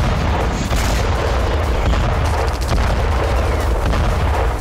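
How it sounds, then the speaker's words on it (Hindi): Air strike explosions in Khan Younis heard as a loud, continuous rumbling roar of booms and blasts with crackling bursts, sustained throughout without pause. "ये खान यूनिस से आई तस्वीरें हैं जहां हमास के सीनियर कमांडर को मारने के लिए एयर स्ट्राइक की"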